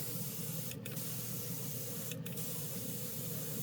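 A spray can lays down Tamiya light gunmetal paint in a steady, close hiss, with two short breaks in the spraying.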